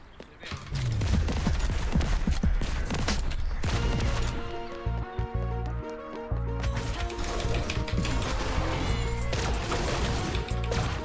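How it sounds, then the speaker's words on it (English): Turret gunfire in a video game, a dense run of rapid shots that keeps going over a steady game soundtrack, close and loud, with no talk over it. "I'm getting HP traded because the turret is just shooting me!"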